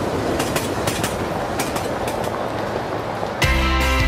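A train runs on rails in a Lithuanian Railways advert, giving a steady rolling rumble with rhythmic clickety-clack, and a brighter, tonal sound joins near the end.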